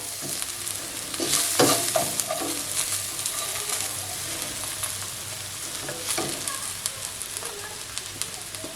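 Onions fry in a pan with cracked tamarind seeds, giving a steady close sizzle broken by occasional scraping stirs. No one speaks over it.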